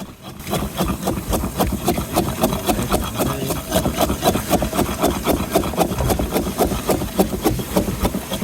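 Spices being ground by hand for a fish curry aboard a Bay of Bengal fishing boat, a steady rhythmic rasping and scraping of stone repeating close by over a constant engine drone.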